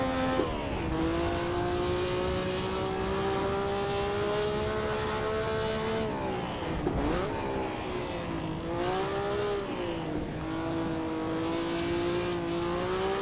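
A historic 1957-era Formula One race car in a racing video game lapping Oulton Park, its engine droning loudly and steadily close up, rising and falling in pitch through gear changes and corners, with no voices.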